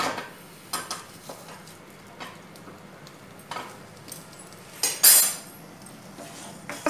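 Utensils scrape and clink against a pan as onions are stirred and fried, with a soft sizzle underneath and a few sharper metallic knocks.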